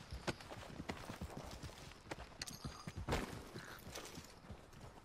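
Horse hooves in Red Dead Redemption 2 clip-clop in a loose, quickening rhythm, faint and somewhat distant, with a few louder thuds mixed in and no voices.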